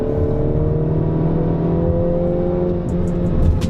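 A MINI Cooper JCW turbocharged engine hums steadily from inside the cabin, its tone rising slightly as it accelerates, with a couple of faint clicks near the end.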